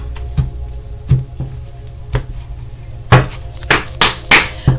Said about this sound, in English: One more shuffle, please. And then let's cut the cards.